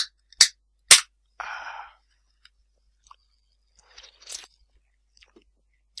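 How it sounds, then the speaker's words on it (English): A can of Coke being opened: two sharp cracking pops close together, followed by a brief fizzing hiss, then a few faint clicks in an otherwise quiet room. "let me just open my can of Coke."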